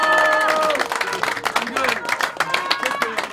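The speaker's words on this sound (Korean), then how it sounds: "박수!" Political party event audience bursting into applause after a new headquarters chief is introduced, dense clapping with some cheering that fades and breaks up under overlapping voices and a speaker's talk.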